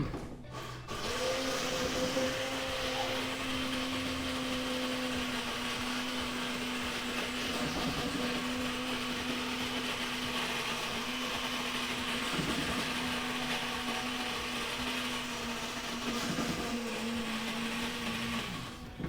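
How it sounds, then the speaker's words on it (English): A blender running continuously for about twenty seconds, a loud steady whirring motor whine starting abruptly and holding with slight wavering pitch, alone without talk. "the blender's going to turn on for a minute."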